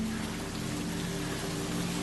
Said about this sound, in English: The only sound was the dripping of rain falling from leaf to leaf.